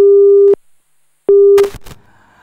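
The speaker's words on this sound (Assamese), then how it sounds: "দুখিত যে সংযোগ বিচ্ছিন্ন হৈছে" A phone line on a call-in show drops into two loud, steady tone beeps separated by a short gap, followed by brief crackling noise and a faint lingering tone.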